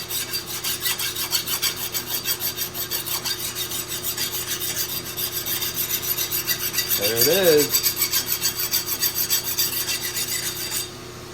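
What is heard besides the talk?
file scraping hardened steel knife blade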